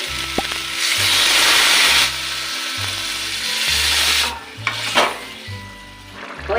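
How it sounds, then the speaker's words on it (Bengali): Water poured into a hot pan of potato curry (aloo dum) hisses and sizzles loudly in bursts, with a steady low electrical hum running underneath. "এবার আমি আমার পরিমাণ মতন জলটা দিয়ে নেবো"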